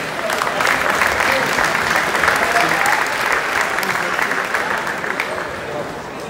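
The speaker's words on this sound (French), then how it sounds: "On peut l'applaudir pour sa présence." Spectators at the Coupe Landolt 2023 basketball final, Fribourg Olympic vs. Telekom Baskets Bonn, applaud in a sustained, dense roar of clapping mixed with crowd noise, loud and steady for several seconds before easing slightly at the end.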